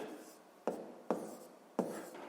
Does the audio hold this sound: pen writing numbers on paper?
yes